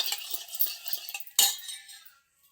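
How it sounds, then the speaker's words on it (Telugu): A spoon clinks repeatedly against a bowl while yogurt is stirred for raita, a series of light close metallic taps followed by one sharper clink that fades out. "లో పెరుగు వేసుకొని తిప్పాలి బాగా"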